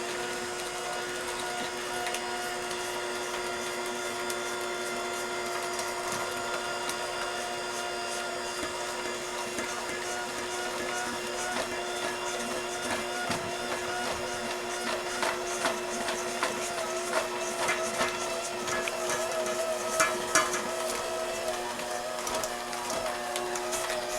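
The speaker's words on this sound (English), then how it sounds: "now we're going to turn our mixer on again, just until the batter is all combined" An electric mixer runs steadily on apple fritter bread batter, a continuous whirring motor hum with faint scraping, close and without talk.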